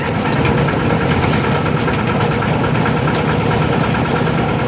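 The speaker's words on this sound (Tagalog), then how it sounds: "Sa di kalayuan, maririnig ang dagundong ng makina." A loud, close engine of an abaca fiber stripping machine roars continuously with a rough, vibrating rumble that holds steady throughout.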